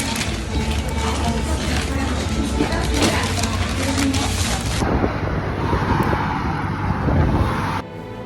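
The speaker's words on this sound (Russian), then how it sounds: "Ветер просто ядерный." Strong wind blasts across a cyclist on a bikepacking trip in Belarus. A loud, continuous broadband roar and buffeting rumble fills the whole stretch and eases slightly in the final moment.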